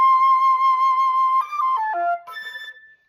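Pan flute playing a fork-fingered F A C D C A F A passage: one long held breathy note, then a quick run of stepped pitches, close and solo with no talking.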